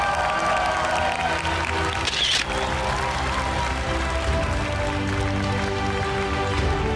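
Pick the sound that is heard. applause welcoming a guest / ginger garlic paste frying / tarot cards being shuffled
applause welcoming a guest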